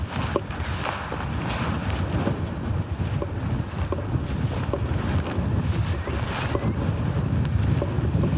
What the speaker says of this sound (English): It's certainly getting tested for the wind, folks.